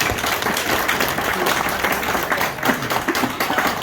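Audience applause at a motivational talk, a steady dense wash of clapping that holds through the whole stretch without pause.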